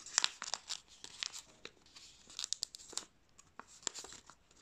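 Close, crisp crinkles and creases from origami paper being folded into an ox shape, coming in quick irregular bursts with no voice over them.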